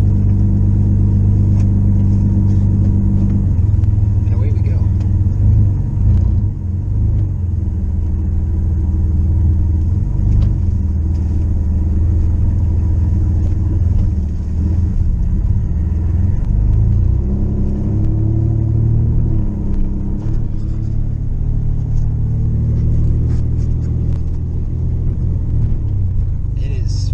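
A 1992 Dodge Dakota pickup truck pulls away, its engine a loud, steady low rumble that rises as it accelerates and stays close throughout.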